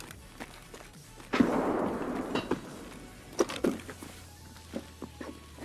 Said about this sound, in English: Celebratory grenade toss